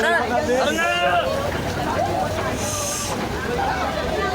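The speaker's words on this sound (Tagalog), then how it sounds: "nagkakagulo na po yung tao dito" A noisy crowd of agitated voices fills the air outdoors at a fire, with overlapping shouting and chatter close around.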